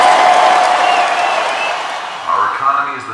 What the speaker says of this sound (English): Another cheer erupts from the ecstatic crowd